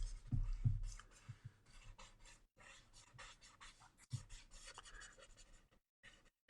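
Soft, steady graphite pencil strokes rubbing and rasping across paper while a horse is drawn, a close, gentle scratching texture with brief pauses between strokes.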